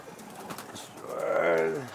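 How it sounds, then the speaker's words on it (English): Satinet pigeons kept as droppers in a racing pigeon loft, cooing in a low, rolling, repeated call that swells and fades close by, with soft rustling around it. "I got these satinets here. I use these for my droppers to bring the race birds down."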